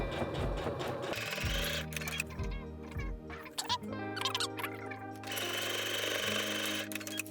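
A sewing machine runs in short bursts while backstitching a phone pouch, its motor whirring and stopping several times with clicks between runs.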